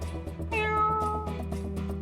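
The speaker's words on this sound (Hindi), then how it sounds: "आपने बिल्ली की आवाज सुनी थी ना?" A cat lets out one drawn-out meow in a scene that sounds like a cave, clear over a low steady hum, with no talking.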